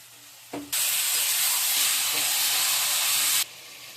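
Prawns, taro and chillies fry in a hot pan: after a soft knock, a loud, steady broadband sizzle bursts up, holds for nearly three seconds, then cuts off abruptly.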